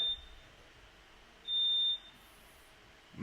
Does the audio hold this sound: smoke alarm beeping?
yes